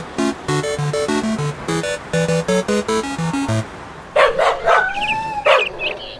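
Dogs at a street pet seller's stall in a radio drama bark and yip sharply in quick bursts, loud and near, right after a stretch of plinking melodic music.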